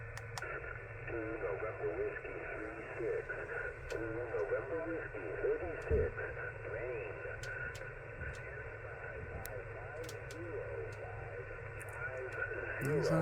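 A strange shortwave radio signal carrying a sine-wave tone wavers through steady static and garbled modulated noise, faint and continuous, with occasional sharp ticks.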